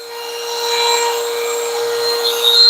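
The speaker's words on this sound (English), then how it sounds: "We're gonna get the scales ground down for it." Wooden knife handle scales being ground down, a steady abrasive rasp of wood against a grinder that runs continuously at close range with a constant high whine, with no voices.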